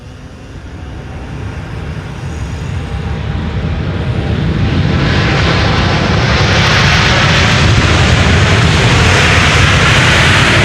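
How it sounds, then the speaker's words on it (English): A Boeing 777 freighter, about fifteen years old, arrives at Schiphol, its engines building from a steady roar into a loud, broad rumble that swells and holds close by for the rest of the stretch, with no voices. "This is a 777 freighter."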